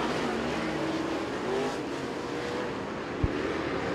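Late model race cars roar around the I-75 Raceway oval, a steady engine drone from a distant pack with a faint rise in pitch and one sharp knock near the end.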